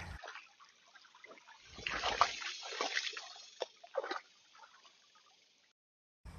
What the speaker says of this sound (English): Here they come rolling in again, getting a drink of water, cooling off.